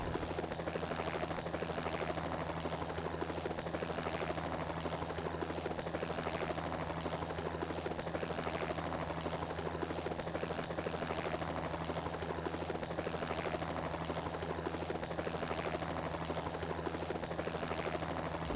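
Steady, droning helicopter engine and rotor hum from inside a tour flight hovering over turquoise water off the south coast of Antigua, an even, constant throb with no talk.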